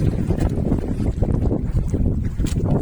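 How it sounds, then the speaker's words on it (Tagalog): Strong gusty wind buffeting the microphone, a loud continuous roar with low rumble, out at sea on a boat. "Mahangin na guys."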